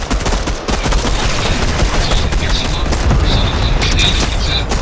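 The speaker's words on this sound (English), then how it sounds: "He just shot at us. I got him with the blaster." Rapid blaster gunfire in the Fortnite Battle Royale video game, with dense bursts of shots and booms running loud and continuous throughout the clip, and people talking over it.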